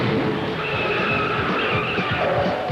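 A race car skids at the 1983 Indianapolis 500, tires scrubbing across the track in a steady harsh roar with a whining tone over it, loud and close throughout.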